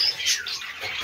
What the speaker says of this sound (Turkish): Bakın burada 5 kefes. Hamısı dolu kuşlarıyla.